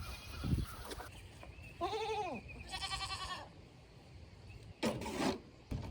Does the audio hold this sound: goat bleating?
yes